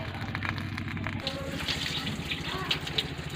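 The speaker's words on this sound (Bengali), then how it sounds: "চলুন সবজিটা ধুয়ে নেওয়া যাক।" Vegetables being rinsed in water for a cabbage dish cooked on a clay stove, a steady splashing and trickling wash heard up close without talk.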